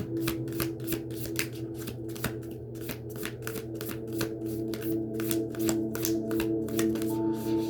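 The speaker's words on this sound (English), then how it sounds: "we're going to go ahead and pull a healing mantra card" A deck of healing mantra cards is shuffled close by, a steady run of crisp riffling snaps repeating at a quick, even rhythm over a low background hum.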